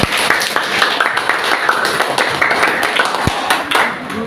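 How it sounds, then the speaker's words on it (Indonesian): Students in a civics class applaud the work of five groups, loud close clapping with sharp individual claps standing out from the crowd, while voices chatter underneath. "Hasil kerja yang bagus dari kelompok 1 sampai kelompok 5 kita berikan tepuk tangan dulu."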